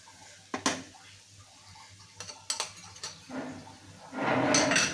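Stirring hilsa roe and onion flower fry in a pan: a few sharp metallic clinks and scrapes of a utensil against the pan, spaced irregularly, then a louder sizzling stir toward the end.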